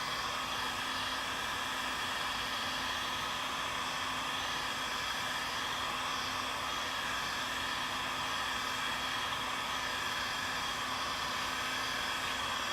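Heat gun blowing hot air onto Polly Plastics moldable plastic to soften it for a Pokeball nightlight, giving a steady, even whooshing roar with a faint motor whine, unchanging throughout and without talk.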